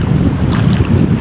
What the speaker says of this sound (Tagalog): May hangin kasi.